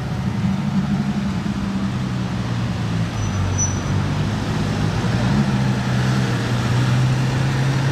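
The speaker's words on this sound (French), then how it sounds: "Oh la Ferrari toute noire." Black Ferrari driving past on a Monaco street, a steady close engine drone with low rumble holding throughout over general road noise, no talk.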